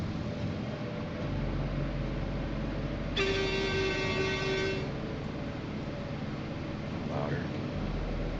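A vehicle horn honks once in the video game Roadcraft, a steady tone lasting about two seconds over a constant engine drone, with someone talking.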